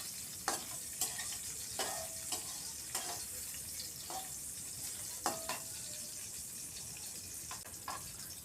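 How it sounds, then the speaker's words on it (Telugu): Salted food fries in a pan and is stirred with a utensil, giving a steady soft sizzle with sharp scraping and clinking strokes at irregular intervals, close and moderately quiet. "ఉప్పు వేసాక మళ్ళీ కలపండి ఇట్లా ఒకసారి."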